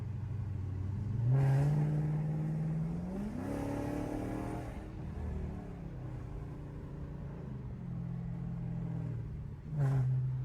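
A Chrysler 300 engine with a flame tune revs up repeatedly with a deep, throaty exhaust note, rising and falling in pitch, loud and close, no talking.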